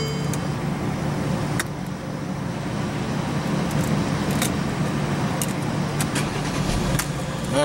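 A 2014 Mercedes-Benz E350 with a 3.5 L V6 running in a low, steady hum after start-up, fairly quiet and even, with a few light clicks and taps from inside the cabin.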